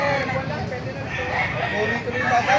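Chickens and roosters at a crowded poultry market in Baliuag, Bulacan, with clucking and crowing mixed into a loud, busy din. People talk nearby throughout.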